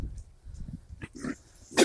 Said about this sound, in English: So these are our forest pigs that go out in the summertime.